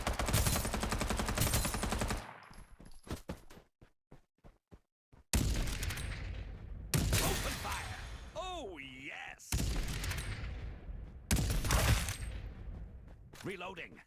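Video game gunfire from Farlight 84, with loud rapid automatic bursts separated by brief gaps, plus scattered single shots and whooshing effects; a voice talks during the clip.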